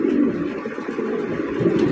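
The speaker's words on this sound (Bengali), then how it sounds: "জ্যাকোবিন কবুতরের কালেকশন দেখতেই পাচ্ছেন" Jacobin pigeons in a loft, low soft cooing and murmuring close by, continuous and overlapping among several birds.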